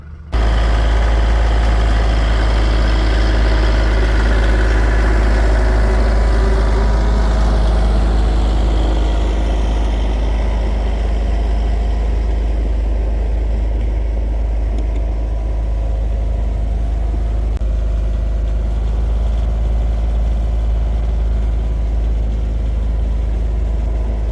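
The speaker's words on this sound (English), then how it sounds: "I'm gonna put you guys on here and let you watch me run the tractor for a little bit." A tractor works to clear snow at an off-grid Alaska homestead in five-below cold. Its engine runs loud and steady as a continuous low rumble throughout, with no talking.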